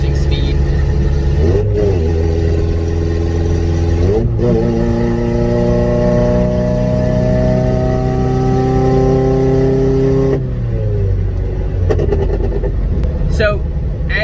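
A straight-piped car accelerates loudly up to cruising speed, its engine drone climbing in pitch through several gear shifts before settling into a steady high-revving hum near the end.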